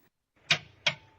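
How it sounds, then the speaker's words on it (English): High-voltage relay of a 2010-2015 Toyota Prius clicking as the car stops: two sharp, crisp clicks roughly a third of a second apart, close and clear against near silence. "This is the operating sound of the high-voltage relay."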